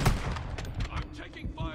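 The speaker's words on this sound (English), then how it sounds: "I'm taking fire." Gunfire in the Warzone 2.0 battle royale video game, a rapid run of fairly faint shots heard under a player's voice.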